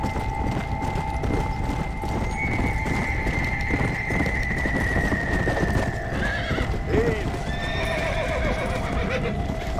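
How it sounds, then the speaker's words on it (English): Horse in the Red Dead Redemption video game, steady clip-clop of hooves throughout with a long whinny and snorting, over a sustained musical drone, with some talking underneath. "We're gonna break this horse"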